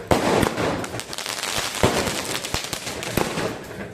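A 30-shot fireworks cake fires a rapid, irregular series of sharp cracks and bangs, loud and close, with no speech heard.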